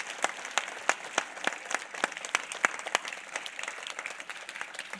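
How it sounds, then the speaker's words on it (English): An audience applauds a successful Pluto space mission at an evening lecture event, a dense steady round of clapping from many hands filling the room, with individual sharp claps standing out throughout. "a big round of applause for the success of the Pluto mission"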